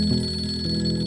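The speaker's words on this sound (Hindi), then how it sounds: "ओ, जमीर का फोन आया" A telephone rings with a loud electronic warble that shifts pitch partway through, close and alone over a steady background hum.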